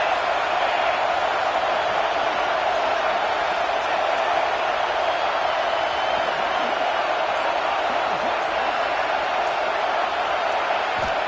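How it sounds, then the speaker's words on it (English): Steady, dense roar of a football stadium crowd at an LSU game, a continuous wash of voices with no breaks, loud and distant-sounding throughout. "This crowd bringing the energy and noise early."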